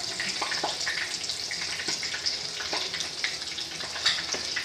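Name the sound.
tacos frying in a pan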